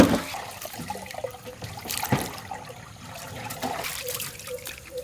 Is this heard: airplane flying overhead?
no